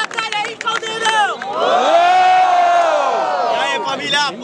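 A crowd at a student rap battle in Guarulhos, Brazil, erupts in a loud, sustained roar of cheering and shouting, with whoops and a few voices standing out at the start and end.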